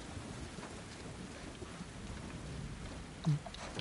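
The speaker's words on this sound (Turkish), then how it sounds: "Fırtınanın içindeyiz." Steady rain and a thunderstorm from The Last of Us Part II, a constant wash of rainfall with a brief, louder thunder rumble near the end, no talking.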